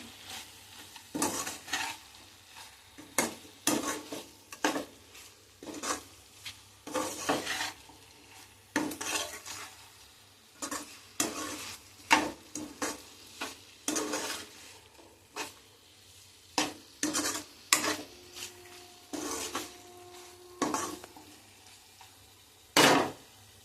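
Spicy gongura chicken being stirred in a pan: a steady run of close scraping and clinking strokes from a spoon against the metal, with a faint sizzle underneath and no voices.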